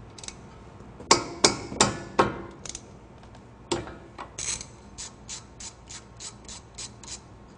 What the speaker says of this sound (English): Then we're going to loosen and remove our bolt from our caliper.